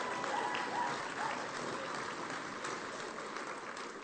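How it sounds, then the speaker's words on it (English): Guests at a St Albans retailer awards event applaud the highly commended pubs, a steady wash of clapping heard faintly and at a distance for several seconds. "Give them a round of applause,"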